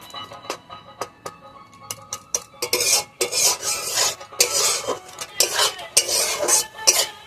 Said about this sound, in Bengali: ময়দাটা লাল লাল করে ভেজে নিয়েছি